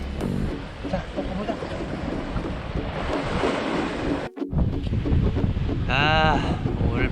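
Strong winter wind roars and buffets the microphone on the Sihwa seawall during sea fishing, a loud continuous rushing with one brief lull and a short voice near the end.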